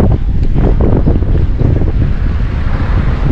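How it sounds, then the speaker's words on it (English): Strong gusting wind buffets the microphone beside Beaumaris Castle in Wales, a loud continuous roar with rumbling bursts and no talking. "It's too windy."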